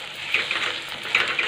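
Peeled hyacinth bean seeds hit hot spiced tempering in an iron kadhai, giving a soft, close sizzle with a couple of brief bright crackling bursts, quiet and short.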